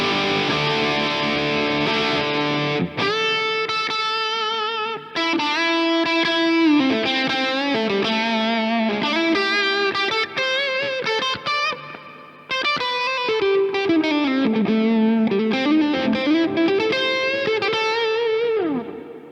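A 2019 Gibson Les Paul Standard in Blueberry Burst with its coil tap engaged, playing a loud, overdriven run of rapid notes and bends with a slight single-coil hum under the tone and no voice.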